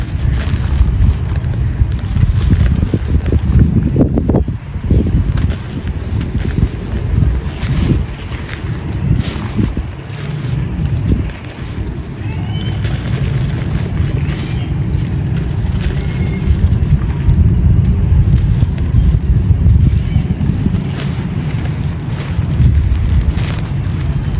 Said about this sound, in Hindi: हवा इतनी तेज़ है